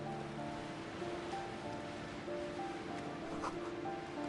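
Cold, wintry grey sea washing in steadily under tonal game music in Disco Elysium, a soft continuous surf wash with no talk.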